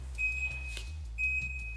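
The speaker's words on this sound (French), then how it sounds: "le haillon se ferme après environ 3 secondes et un bip sonore retentit." Confirmation beep from a Renault Estate's powered tailgate as it closes: two steady, fairly faint electronic tones, one near the start and another about a second later, over a constant low hum.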